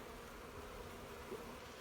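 Bees buzzing inside their shipping package, a faint, steady hum that stays even throughout with no voices.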